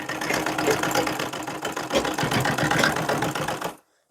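A sewing machine stitches along buckram for a suit, running in one loud, steady rattling burst that stops abruptly near the end.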